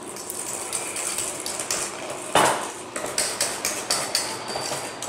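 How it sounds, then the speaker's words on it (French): A utensil works through cake batter of beaten eggs, flour, baking powder and almond powder for a pound cake, giving a run of close, rhythmic clinks and scrapes against a bowl with one louder clatter. "Je mélange le tout."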